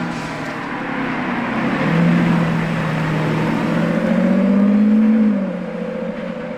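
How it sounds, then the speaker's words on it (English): A matte Lamborghini Urus SE drives past with a rising and falling engine drone. The engine swells as it nears and fades away over a few seconds. "And there goes another matte Urus SE."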